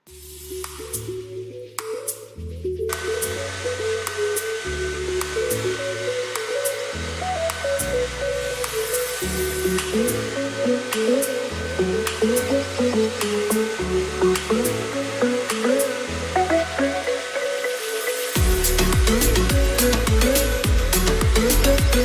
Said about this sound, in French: j'hésite pas à utiliser le sèche-cheveux juste devant là où ils sont plus longs